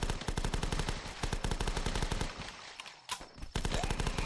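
Rapid automatic gunfire from the zombie shooter game The Last Stand, dense evenly spaced shots in long bursts that briefly thin out and pause near the three-second mark before resuming.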